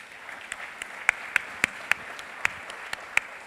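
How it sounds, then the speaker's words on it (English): An audience applauds a former president at a BrainTech Israel 2015 event, a thin patter of scattered claps with a few distinct sharper claps standing out at a moderate distance. "Give our former president another round of applause."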